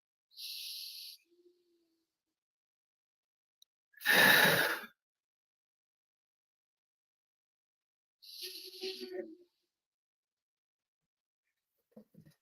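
Deep breathing during a guided meditation: a soft breath, then a long, loud exhale, then another slower breath, each separated by near silence.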